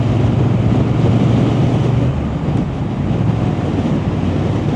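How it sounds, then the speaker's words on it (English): Strong, continuous wind buffeting the microphone, a loud low roar and rumble that barely lets up throughout. "Still is quite windy."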